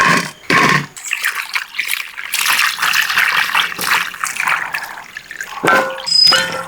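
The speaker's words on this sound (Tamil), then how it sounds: "இப்போ நல்லா கழுவி எடுத்துக்கிறோம்" Tap water running and splashing over cut raw mango pieces being washed for mango curry, an uneven stream of gushes and trickles with brief pauses, close and fairly loud.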